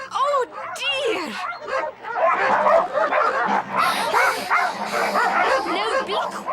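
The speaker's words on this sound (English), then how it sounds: "Now be quiet, you noisy dogs." Cartoon dogs bark and yip excitedly in quick overlapping bursts while chasing a cat, with whimpering mixed in and a voice-like layer running throughout.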